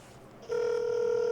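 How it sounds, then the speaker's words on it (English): A cell phone on speaker gives a single steady ringback tone that starts abruptly partway through and holds, clear and close. "I'm going to call him back on my cell, and I'll just put it on speaker"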